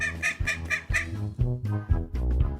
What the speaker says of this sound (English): D. for duck.